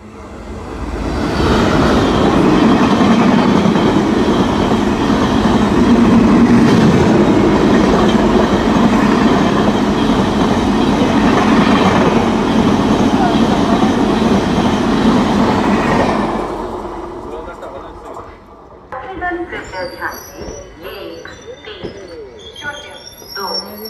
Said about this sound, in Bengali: আর এখন আমাদের ট্রেন আসছে 13319 রাঁচি ইন্টারসিটি এক্সপ্রেস।